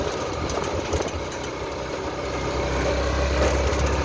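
Saleng motor tricycle engine droning steadily while riding home past rice fields, a loud continuous rumble with road and wind noise, close and unbroken.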